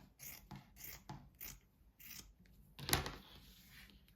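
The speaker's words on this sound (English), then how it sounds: "we can actually cut several trees out of one piece" Scissors snipping through fabric to cut several tree shapes for quilt-as-you-go cards, a series of close crisp cuts in an irregular rhythm with one sharp louder snap near the end, no talking.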